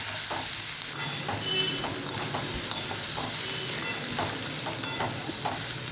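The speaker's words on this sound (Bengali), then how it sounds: "এই রসুন বাটাটা দিয়ে দিলাম, দিয়ে আলুর সাথে এটাকে ভেজে নেব" Garlic paste frying together with potatoes in a pan for aloo posto gives a steady close sizzle with light stirring scrapes and small crackles throughout, no talking.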